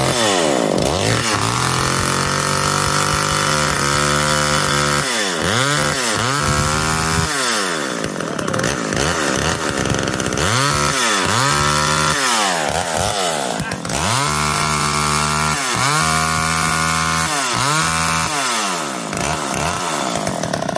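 A McCulloch Eager Beaver 2.0 chainsaw runs loudly up close, its two-stroke engine revving up and down repeatedly in rising and falling surges for about twenty seconds, no voices.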